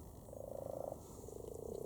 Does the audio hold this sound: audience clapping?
no